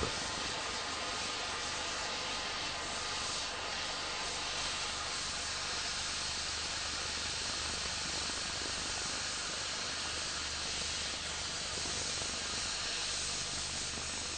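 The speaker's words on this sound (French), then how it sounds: "Portons l'extrémité de la pièce au rouge avant d'enclencher le jet de coupe" An oxy-fuel cutting torch cuts a steel plate by hand, its jet giving a steady, loud, broadband hiss that roars on without a break.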